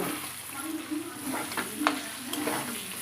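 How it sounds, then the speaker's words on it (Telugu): Country chicken frying dry in a pan crackles and sizzles steadily, with intermittent scraping and stirring strokes against the pan, close and moderately loud, no voices. "ఫ్రై అవుతూనే ఉంది"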